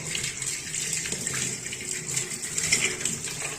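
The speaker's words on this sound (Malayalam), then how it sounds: "ഇപ്പോൾ ഞാൻ ആ ഗ്ലാസ്സിലിരുന്ന വെള്ളവും കൂടി ഇതിലേക്കൊന്ന് ഒഴിച്ചിട്ടുണ്ട്" Water from a glass poured into a container while cleaning rusty knives and scissors at home, a steady close gushing splash running for a few seconds without any speech.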